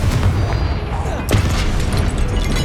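Confringo spell blast in Hogwarts Legacy, a sharp burst of a fiery explosion rising out of a dense, continuous din of combat effects and spellcasting, loud and close.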